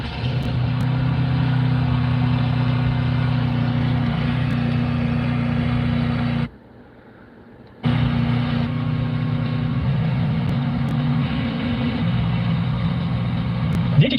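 Car engine fitted with an HHO hydrogen system, a steady close idle drone with a continuous low hum that drops out briefly in the middle and then resumes unchanged.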